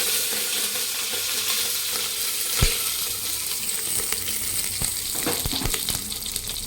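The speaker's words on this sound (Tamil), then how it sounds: "எண்ணெய் ஊற்றியாச்சு. அப்புறம் கடுகு போட்டாச்சு." Mustard seeds and green chilies fry in hot oil for a Tamil goat-leg soup and curry, giving a steady, loud sizzle with scattered crackles and pops close up.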